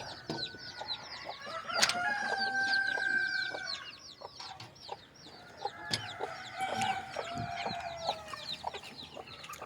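Country chickens cluck busily and a rooster crows close by just after their coop is opened in the morning, with overlapping calls filling the yard and a second burst of clucking later.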